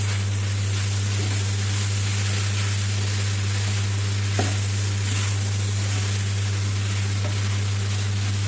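Egg mixture stir-fried in a pan for non-vegetarian noodles, giving a steady, loud hiss of sizzling with a constant hum underneath and an occasional faint scrape of stirring.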